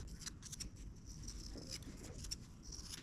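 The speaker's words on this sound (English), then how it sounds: "If you haven't cut out the pieces for your little bag yet, let's go ahead and do that now." Scissors snip through fabric pieces for a small sewn bag, a series of quick, quiet, close cutting clicks in a calm indoor setting with no talking.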